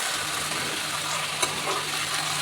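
Chicken curry being stirred as it fries in a pan, a steady close sizzle with soft scraping and one brief louder clink partway through, no talking.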